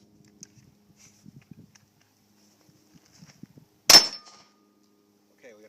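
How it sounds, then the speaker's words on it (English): A single close, sharp gunshot from a Glock 17 pistol firing one round with no magazine in the gun, preceded by quiet handling clicks and a brief ringing decay afterward. "That's firing one round at a time with no magazine in the gun."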